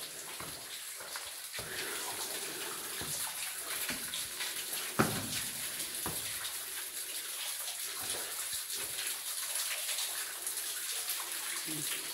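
Spring water flowing and trickling continuously at moderate volume at an old quarry, with one sharp knock partway through.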